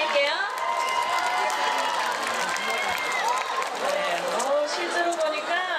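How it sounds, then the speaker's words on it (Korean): A concert crowd at an outdoor public radio broadcast show in Namyangju, South Korea, cheers and claps in a loud, continuous roar, with high-pitched fan screams rising repeatedly above the steady wash of applause. "다시 한번 큰 박수 부탁드릴게요."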